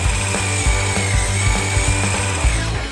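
A blender grinds dates, dried apple, coconut and carrot into a paste, a loud steady motor whir with rhythmic knocking and rattling as the chunks churn, close up and with no voices.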